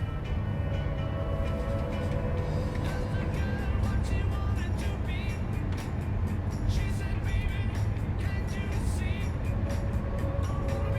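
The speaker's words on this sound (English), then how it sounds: "He sped down the highway enjoying the breeze." A car speeds down a highway, a steady loud rush of engine and road noise running unbroken throughout.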